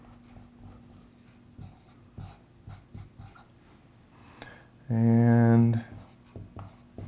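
Marker or pen scratching out a calculus calculation on a board, with soft intermittent strokes under a voice and a brief loud tonal whine near the end.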